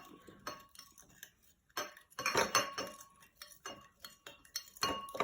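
A metal spoon clinks and scrapes against a glass while stirring coloured foam in a children's rainbow foam experiment, bursts of bright tinkling with short pauses between, close and clear.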